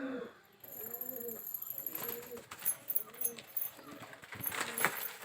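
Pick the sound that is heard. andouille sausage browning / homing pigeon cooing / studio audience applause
homing pigeon cooing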